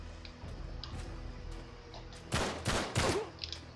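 Gunfire in the video game Uncharted 3: faint scattered shots early on, then a louder cluster of several sharp bursts near the end over a steady game background.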